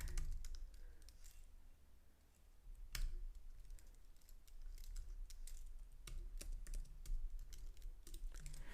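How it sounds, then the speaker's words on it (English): Code is typed on a computer keyboard in quick, irregular bursts of crisp key clicks. A few louder taps stand out in the close, quiet typing, with no speech. "So let me type that."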